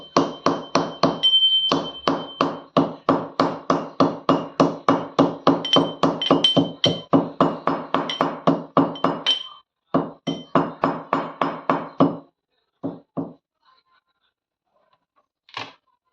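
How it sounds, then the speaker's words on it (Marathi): Dry ginger is pounded in a mortar and pestle: rapid, steady clinking thuds, dozens of strokes with a short pause midway, then a few scattered last taps before quiet. "जी सुंठ आहे तर ती कुटून घेणार आहे मी खलबत्त्यामध्ये"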